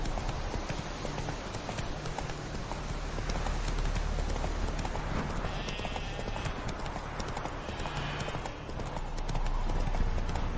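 Roach the horse galloping in The Witcher 3, a dense, continuous clip-clop of hooves at a fast running rhythm over a constant outdoor bed, close and loud throughout.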